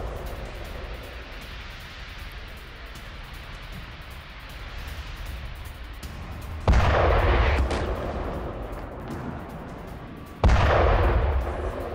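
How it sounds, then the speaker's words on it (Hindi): Back-to-back explosions at night in Sevastopol: after a stretch of low rumbling background, two heavy booming blasts land several seconds apart, each loud and echoing as it fades. "सेवास्तोपोल में रात के वक्त हुए बैक टू बैक ये धमाके"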